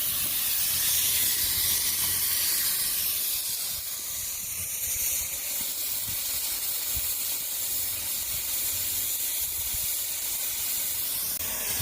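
Steady harsh, hissing grind of a pipe beveling machine cutting a bevel on metal pipe, continuous and loud throughout with slight fluctuations in tone.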